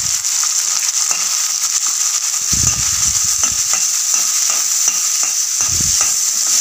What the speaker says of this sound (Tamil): வெங்காயம், கருவேப்பிலை கொத்தமல்லி தழை சேர்த்துட்டு நல்லா வதக்கிக்கலாம்